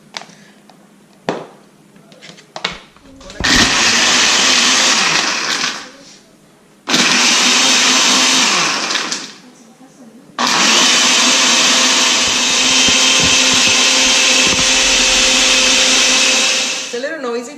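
A countertop blender crushing ice for a drink, roaring loudly in three long bursts separated by short pauses, with a few clunks and brief talk before it starts.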